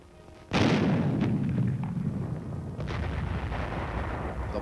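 A recoilless rifle fires once on a firing range, a sudden loud blast followed by a long, heavy rumbling roar that lingers for several seconds.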